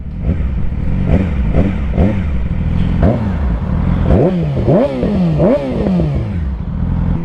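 Yamaha R6 sport bike, ridden with an oil leak, revving up and down through repeated throttle blips and rising engine pitch, close and loud with wind noise.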